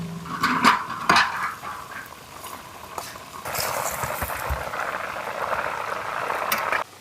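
A large pot of garfish curry bubbles at a rolling boil while it is stirred, with a few clanks of the utensil against the pot and then a loud, steady, close bubbling hiss.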